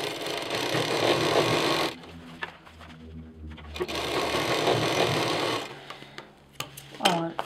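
Sewing machine stitching a backpack piece runs in steady bursts with a brief pause, close and prominent, while a person talks over it.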